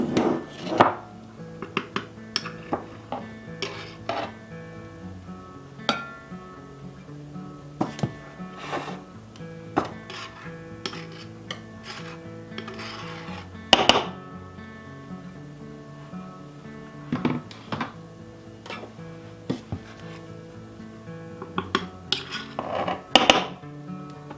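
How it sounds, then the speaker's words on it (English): Flour and other dry ingredients for chewy ginger snap cookies being measured into a small mixing bowl, with repeated light clinks and taps of measuring cups and spoons against the bowl, close and fairly quiet, in irregular bursts. "we're going to measure out our dry ingredients into just a small mixing bowl"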